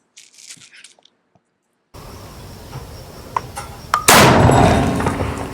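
A single sharp rifle shot from a Savage 110 Apex Hunter bolt-action rifle fired outdoors, a loud broadband crack midway through that rings out and decays, preceded by a few small clicks and faint handling noise.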